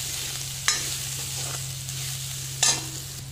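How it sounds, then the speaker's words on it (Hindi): Onions and dry spices frying in a pan, a continuous close sizzle with a low steady hum beneath and two sharp scrape-and-clatter stir strokes, no talking. "इसी में हम ये सूखे मसाले जो हैं ये भी डाल के अच्छे से भून लेते हैं"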